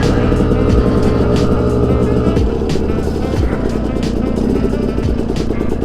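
A Yamaha YZ250 two-stroke engine on its final break-in run rasps loudly and close, rising and falling in pitch as it is taken up through a few gears, with the revs dropping at each shift.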